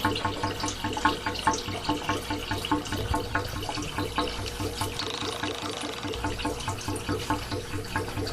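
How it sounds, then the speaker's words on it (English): Water drains steadily from a hot water heater tank, a continuous rushing, splashing flow at moderate loudness with no pauses and no talking. "you can see the water's coming out pretty clean."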